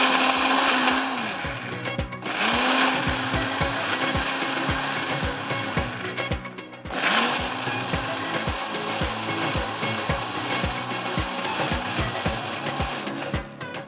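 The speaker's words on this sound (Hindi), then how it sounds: "इसको मैं ग्राइंडर में डालकर पीस लूँगी" A mixer grinder runs on a warm cooked mixture for a curry, its motor whine loud and steady and pausing briefly twice, with rhythmic knocking from the jar throughout.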